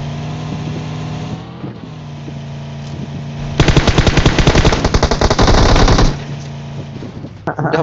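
Loud automatic gunfire from PUBG Mobile erupts as a rapid, dense burst lasting a couple of seconds, standing out from the quieter in-game ambience and engine-like hum before and after it.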